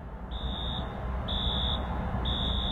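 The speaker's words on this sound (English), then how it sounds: "That alarm, that's the alarm that has been going off since around 1 o'clock in the morning" Fire alarm sounding at an evacuated movie theater in Aurora, three long evenly spaced high-pitched electronic tones over a steady rumble of background noise, no voices.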